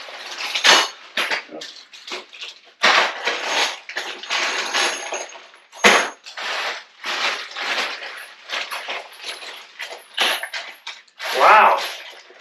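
Bag of roof rack screws for a Toyota Tacoma, handled and shaken, giving repeated metallic jingles and rattles in bursts at close range. Little to no talking.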